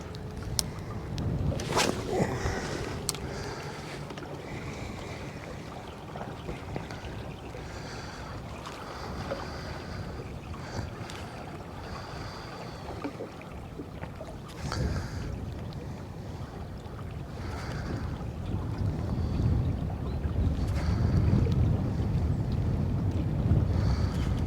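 Wind blowing across a lake while fishing from a drifting boat: a continuous rushing wind noise buffets the microphone throughout, with occasional small knocks and thumps, swelling louder toward the end.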